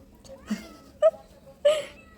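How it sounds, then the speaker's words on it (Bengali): Two short, plaintive cat meows, close and clear, separated by quiet pauses with faint background noise. "তুমি মিয়াওকে খেতে দাওনি?"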